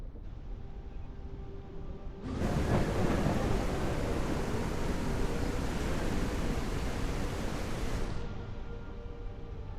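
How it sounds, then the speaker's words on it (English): Storm ambience in the video game Cauldron Chronicles: a broad rushing roar of rain and wind swells up abruptly, holds steady and loud for several seconds, then cuts back to a quieter hiss. "You'll be able to hear the sounds of storm the closer you are to the surface."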